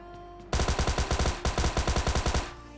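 A Thompson submachine gun fires in the PUBG battle royale game: two close, loud, rapid automatic bursts, one longer and one shorter, separated by a brief gap, with quiet game ambience before and after.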